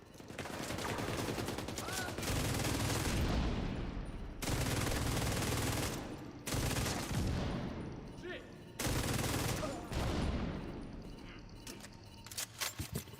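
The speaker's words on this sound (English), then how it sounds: "So that explosion that you're hearing is from the dead drop modifier." Loud, dense gunfire and explosions from The Division 2 video game, including a blast from the dead drop modifier, with bursts of shooting continuing almost without pause.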